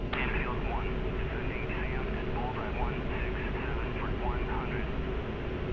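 F-16 jet in DCS World cruising in flight, a steady, even engine roar with constant broadband hiss, unchanging in level, with voices talking over it.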